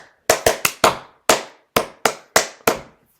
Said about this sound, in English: if you wanted to clap like 1 and 2 and